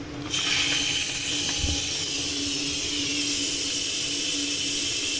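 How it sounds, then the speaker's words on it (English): Steam rushes out of just-cooked rice with a sudden loud hiss that holds steady for several seconds, close up and continuous with no voices. "the rice has just finished cooking, so about to have a steam explosion"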